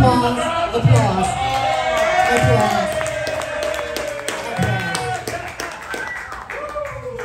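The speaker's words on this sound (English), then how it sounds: "Applause, applause." Comedy club audience applauding and whooping at a stand-up set, dense clapping with a few shouts, loud and close throughout, fading slightly toward the end.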